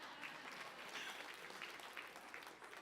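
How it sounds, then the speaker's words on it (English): An audience at a motivational talk gives a round of applause, a faint, distant, steady patter of clapping with no voices over it. "A round of applause for yourself."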